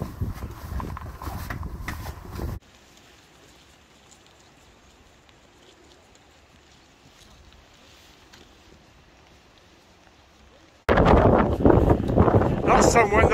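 Steady wind gusting across open, rocky and wet ground near Bridge of Orchy on the West Highland Way, a continuous broad rush on its own through the middle, with walkers talking loudly before and after.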